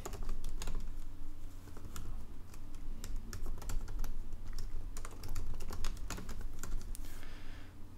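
Someone types on a computer keyboard with quick, irregular clicking keystrokes, steady and close over a low hum, with no talking.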